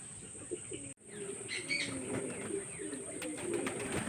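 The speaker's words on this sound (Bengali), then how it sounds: "পায়রাগুলো দেখুন কেমন খাচ্ছে ধান দিয়েছি" Domestic pigeons coo softly and steadily while eating paddy grain, a low continuous murmur of several birds close by, with a brief rustle or flutter near the start.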